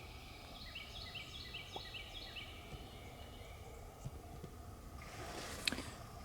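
A wild turkey calls in Mississippi woods, a rapid repeated run of notes early on, fairly distant over steady woodland background noise with a louder burst of bird sound near the end.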